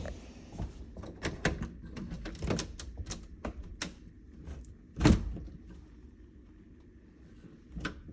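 Someone works a tight interior door in a house open with effort, giving a series of knocks, rattles and clunks with one heavy thump midway, close and indoors, no speech.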